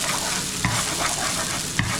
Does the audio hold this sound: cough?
no